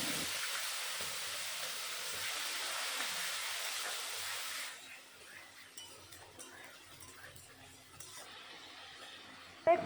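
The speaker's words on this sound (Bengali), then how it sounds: "এখন যত সময় পেঁয়াজের কাঁচা গন্ধ না যায় তত সময় আমি পেঁয়াজ ভেজে নেব।" Onion paste frying in hot oil with cumin and bay leaf, heard as a loud, steady broadband sizzle that drops after about five seconds to a quieter crackle with occasional utensil clinks.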